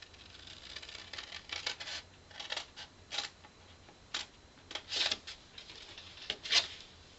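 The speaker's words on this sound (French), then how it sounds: "Je vais venir couper la ligne des plis ici jusqu'à l'intersection." Scissors cut paper along a fold line, giving quiet, irregular snips and crisp paper rustles in short bursts with small pauses between them.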